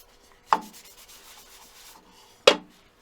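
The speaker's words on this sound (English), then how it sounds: "I'm just going to put a little bit of wood wax 22 on the outside and give that a bit of a rub." Hand rubbing wood wax onto a textured wooden bowl, giving a soft continuous friction hiss between two sharper knocks or brushes, close and fairly quiet.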